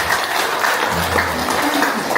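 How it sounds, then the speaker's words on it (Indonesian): A crowd at an amateur radio (ORARI) exam event in a village claps steadily and loudly, a continuous wash of applause with faint voices mixed in. "Ya, tepuk tangan semuanya."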